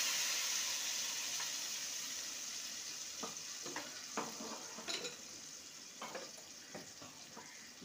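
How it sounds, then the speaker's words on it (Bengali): Ginger, chilli and tomato paste frying in a tempering for a vegetarian parwal (pointed gourd) dish, a steady close hiss of sizzling oil broken by a series of sharp scraping stirs and light clinks of a utensil against the pan. "মশলাটা দিয়ে দেবো।"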